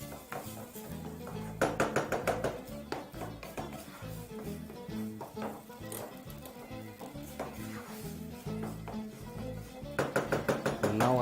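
Cooked beef mince for homemade empanadas is stirred and scraped in a pan, giving repeated clattering utensil strokes in bursts with a soft background of sizzle and scraping.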